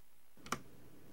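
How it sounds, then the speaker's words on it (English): An escape key is tapped on a computer keyboard as a Laserdisc player starts, giving a couple of sharp, close clicks over a quiet background, the second one right at the end. "we're going to get ready to push escape on the keyboard and play on the Laserdisc player at the same time"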